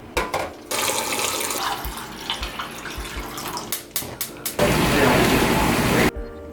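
Tap water runs into a cooking pot as four cups are measured out for boiling, a broadband rush that comes in bursts and then pours steadily and loudly near its end, with some kitchen clatter.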